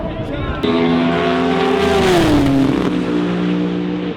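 Turbocharged cars, including a Honda and a Supra, launch in a drag race with a loud, sustained engine roar that rises and shifts pitch in pitch over several seconds, close by with a crowd around.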